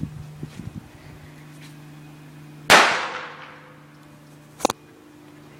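A mini cannon fires a single sharp, loud blast with a long ringing decay in a quiet space, followed by a smaller metallic clatter about two seconds later.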